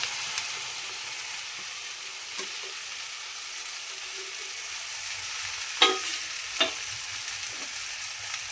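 Okra (bhindi) frying with red chilli powder, turmeric and coriander-cumin powder, with a steady soft sizzle under a few sharp stirring clicks and knocks of the spoon.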